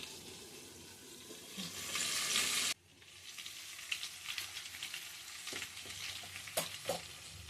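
Stuffed capsicum fries in a pan with a loud hissing sizzle that cuts off abruptly, followed by softer crackling and scattered clinks of stirring.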